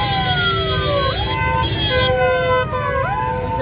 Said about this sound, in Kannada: ಸೈರನ್ ಬೇರೆ ಇದರಲ್ಲಿ.